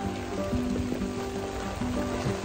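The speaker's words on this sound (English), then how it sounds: "But it's raining harder." Rain falls steadily on a hiker along the Appalachian Trail, a dense even patter close around, with low tonal hum from wind or gear running underneath and no talking.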